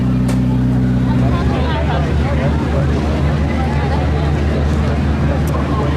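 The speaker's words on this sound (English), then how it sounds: "And they got another boat full right here." A boat engine rumbles low and constant beneath a murmur of many voices: a crowded boat carrying about 80 people to Tom Sawyer Island passes nearby.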